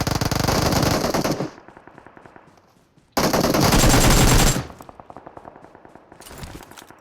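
Gunfire in the video game PUBG Mobile: two long, loud bursts of rapid automatic machine gun fire, separated by quieter rattling and a brief silence, with no voices over them.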